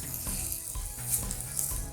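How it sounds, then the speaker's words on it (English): Close, steady sizzling of a 48oz cowboy steak on a hot sizzle plate, with crackling pops throughout. "I'm going to let that sit on the sizzle plate"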